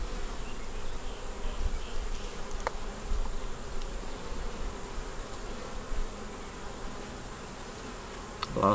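Honey bees buzzing around a hive frame, a dense continuous drone from many insects close by, with a few faint clicks and handling knocks, no voices.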